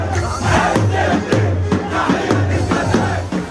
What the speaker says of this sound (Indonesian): Pengungsi Palestina sorak-sorai merayakan pengumuman tahapan pertama rencana perdamaian